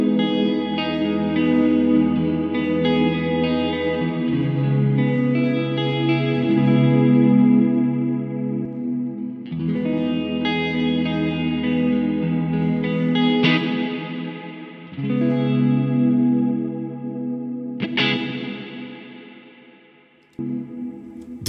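Electric-style guitar phrases drenched in a bright, lush Baby Audio Crystalline algorithmic reverb, chords and single notes ringing with long shimmering tails; the same figure is played twice, loud and upfront, with no talking.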